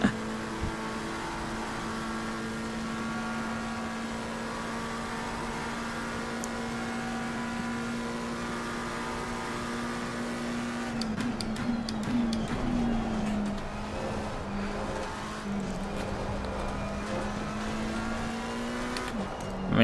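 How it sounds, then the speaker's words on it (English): A race car engine in Assetto Corsa Competizione at Spa drones steadily at high revs, then shifts through gears with rising and falling pitch, faint tire noise and interior rattles, heard from the cockpit. "you can imagine where I am on the racetrack based on the sounds my engine is making"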